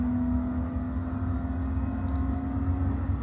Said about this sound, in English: The engine's got a decent sound to it too.